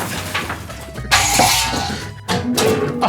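Glass smashes and breaks in an old building with hand-hewn beams, two sharp crashing bursts about a second apart, each trailing off into tinkling debris, loud and close.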